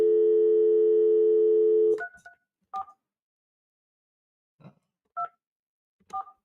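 A held telephone dial tone from a regular phone cuts off, then a few short keypad DTMF beeps sound one at a time with pauses between them, clear and close with no talking.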